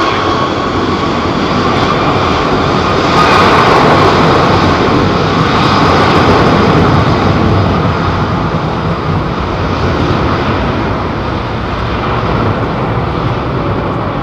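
A loud, steady roar of a jet airliner at London Heathrow Airport fills the whole stretch, a broad continuous engine rumble that swells slightly midway and holds close and strong throughout, with no voices.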